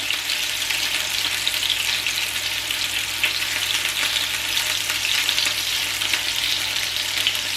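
Meatballs fry in a pan with a constant, close sizzle and crackle that holds steady throughout.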